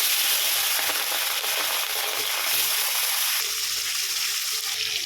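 Baan fish (eel) frying in a pan, a steady, loud, hissing sizzle that runs unbroken from start to finish with no talking.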